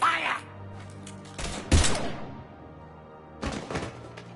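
Gunfire in Mass Effect 3 on PS4 Legendary Edition, a few heavy booming shots and thuds with brief game voice underneath, spread across a short burst.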